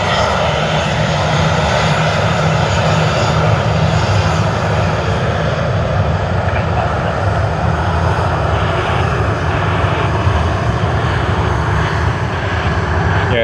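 Engines of a British Airways airliner at Sydney Airport roar loudly and steadily at close range, a broad continuous rumble with no voices over it.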